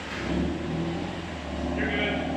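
A Porsche engine revs in short bursts near at hand, a rough mid-pitched snarl that rises and falls over a couple of seconds.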